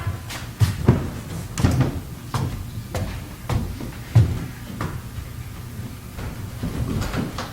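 Someone handles a door for a visitor in a staged drama, with a series of irregular wooden knocks, clacks and thuds spread across several seconds over quiet room tone.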